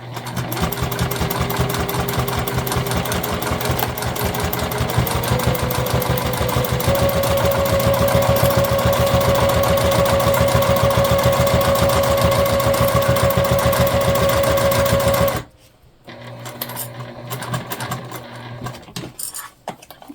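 A sewing machine basting binding onto a tote bag runs in a steady fast stitching whir for about fifteen seconds, then stops abruptly, leaving faint handling clatter.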